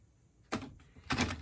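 Tarot cards shuffled by hand, two short papery riffling bursts separated by a brief pause, close and quiet with no talking.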